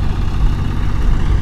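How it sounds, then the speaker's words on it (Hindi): An old Escort 355 tractor strains uphill hauling a 12-ton machine, its engine a heavy, steady, low chugging rumble heard up close. "खुद चला रहे हैं ट्रैक्टर को,"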